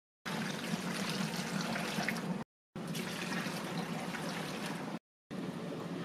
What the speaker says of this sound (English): now we're gonna add 2 cups of water.